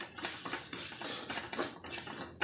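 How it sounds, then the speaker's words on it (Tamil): Grated coconut being stir-fried in a pan for a drumstick-leaf stir-fry, with steady scraping and stirring against the metal pan and a faint sizzle underneath, continuous and close. "துருவின தேங்காய் சேர்த்துட்டு நல்லா வறுத்துக்கலாம்."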